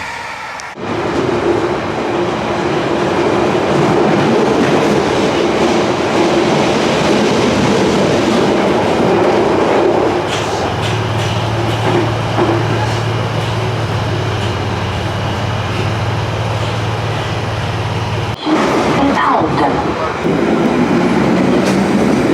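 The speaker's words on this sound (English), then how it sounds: "one of my favourite things is being on an underground train above ground, which makes this line even better" An Underground train running on an above-ground stretch between Harrow and Wealdstone and Queen's Park, with a steady loud rolling rumble, rhythmic clickety-clack over rail joints and a low hum, continuous throughout with a brief dip near the end.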